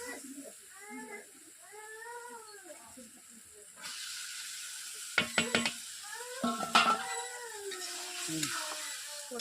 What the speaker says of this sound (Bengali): আলু সয়াবিন দিয়ে দিয়েছি, মশলার সঙ্গে কষে নেবো।